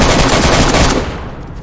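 Gunfire in the DayZ video game: a rapid burst of loud, close automatic shots that stops after about a second and leaves a fading echo.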